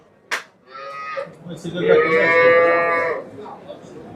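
Cows moo loudly and close by at a livestock market, a short call followed by two long drawn-out moos, with no talking.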